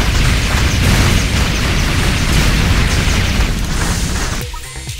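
Shotgun blasts and explosions from the tower-defense shooter game Sanctum form a loud, dense, continuous barrage of booms that eases slightly at the end, with a brief spoken exclamation.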